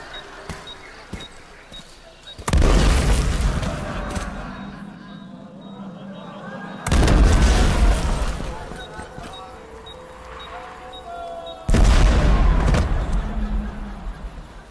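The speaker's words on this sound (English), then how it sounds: "the first of which is the landmine" Landmine explosions in a PvP video game: three loud, heavy blasts, each holding as a long roaring rumble for a few seconds before cutting off, with talk and game sounds in the quieter gaps.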